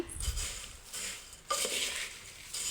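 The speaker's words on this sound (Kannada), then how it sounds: "ಒಗ್ಗರಣೆನ ಸೇರಿಸ್ಕೊಂಡ್ಬಿಟ್ಟು ಚೆನ್ನಾಗಿ ಮಿಕ್ಸ್ ಮಾಡ್ಕೋಬೇಕು" Dry rustling and scraping as puffed rice is tossed and mixed with a spice tempering in a bowl, with occasional light clinks of a spoon, close by and steady.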